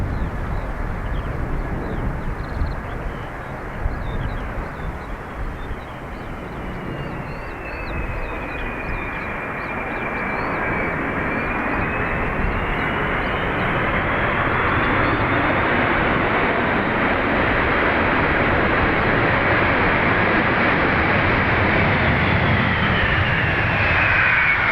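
A Delta airliner from Boston rumbles at Dublin Airport, its broad jet roar with a thin whine swelling gradually louder and more continuous over the whole stretch, heard from a distance outdoors.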